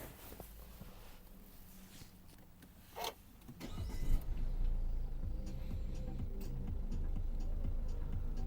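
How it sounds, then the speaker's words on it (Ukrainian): A 2016 Peugeot 508 car engine cranks and catches with a short whirring burst, then settles into a steady low idle rumble, after some faint clicks and ticking. "Двигунчик працює рівненько."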